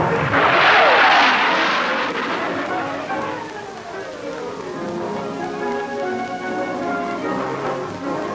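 A fast, light NATO ground-attack jet roars loudly at first, then its engine noise fades into a steady, lower rumble, with a narrator speaking over it.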